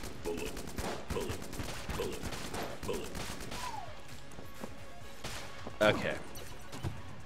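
Gunshots and hit impacts from the video game Die/Repeat/Die land as rapid, repeated bursts with one louder crash near the end, heard under a voice.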